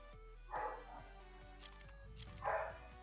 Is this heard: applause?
no